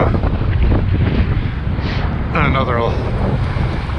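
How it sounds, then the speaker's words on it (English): Strong gusts buffet the microphone high at the top of a canal lock on the Black River, a continuous roaring rush with ambient noise beneath and a brief higher whistle near the middle. "it's a hell of a lot windier and noisier up here at the top"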